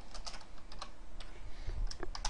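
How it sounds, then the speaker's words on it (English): Typing on a computer keyboard while coding: quick irregular key clicks in close succession, near and clear, with no speech. "what in the hell are you typing, buddy?"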